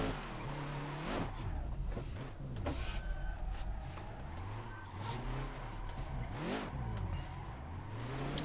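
A Scania R1000 truck in a controlled drift, its engine droning loud and close with shifting revs and swooping pitch, tire noise over it and a few sharp bursts, continuous throughout.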